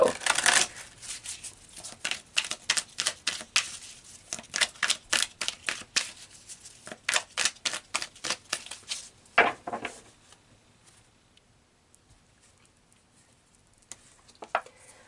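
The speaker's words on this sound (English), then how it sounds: "So let's pull some cards to see what the energy is between the two of you." Tarot cards are shuffled by hand in quick, close, crisp riffling bursts that repeat steadily for about ten seconds, then fade to a few soft taps.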